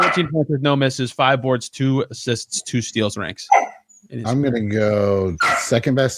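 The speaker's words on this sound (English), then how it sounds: "I'm sorry about my dog." A pet dog barks briefly in the background while someone talks steadily over it.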